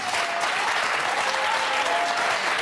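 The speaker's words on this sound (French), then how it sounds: "Vous voulez pas applaudir le 69?" A studio audience at a French TV word game show breaks into dense, sustained clapping that fills the whole moment evenly.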